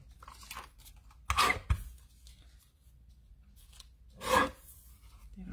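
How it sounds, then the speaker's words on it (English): A tiny paper trimmer cuts cardstock in two short rasping slices, one brief cut early and a second near the end, close and fairly quiet in a calm room. "Let me just pull out this tiny little trimmer here. I'm going to cut this down."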